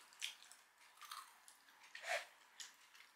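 Crispy banana chips crunch between the teeth in bursts of sharp, close bites and chewing, quiet overall with no talking.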